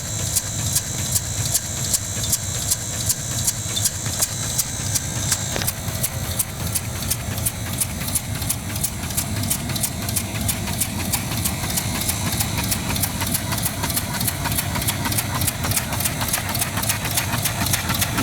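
Briggs steam engine driving a DC battery charger, running at about 50 psi with a steady, rapid chuffing beat that stays close and continuous, the pace quickening slightly partway through.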